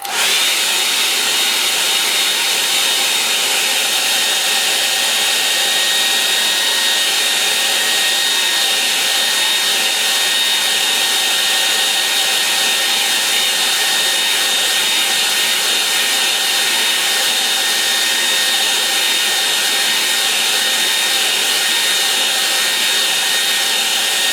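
A hair dryer blows steadily to dry wet paint on a landscape painting of distant hills, a loud continuous whir holding unbroken for the whole stretch with no talk.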